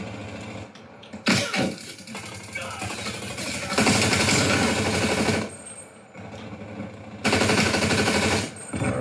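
Rapid automatic gunfire from a video game weapon in a first-person shooter, loud bursts of a few seconds each separated by short pauses, with a voice speaking faintly over the game.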